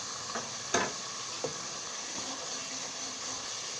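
Garlic ginger paste frying in a pan of oil with bay leaf, black cardamom, cloves and cinnamon pieces for a rice dish, a steady soft sizzle with a couple of sharp stirring clinks, no voices.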